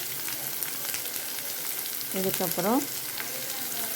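Finely chopped large onions fry in an iron pan on a stove over a medium flame, giving a steady soft sizzle throughout; a voice speaks briefly partway through.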